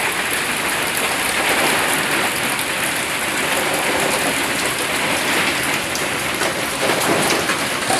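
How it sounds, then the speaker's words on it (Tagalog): Heavy drizzle falls steadily under dark clouds, a dense, even hiss of rain on surfaces that holds at a constant loud level for the whole stretch with no pauses. "malakas na ambon to"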